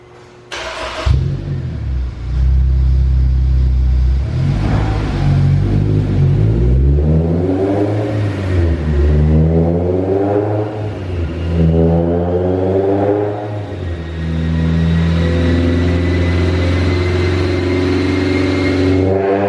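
A Honda S2000 on a dyno starts, idles, then revs up and down in repeated sweeps before climbing in a long, loud, high-pitched pull, the engine close and strong with no talk.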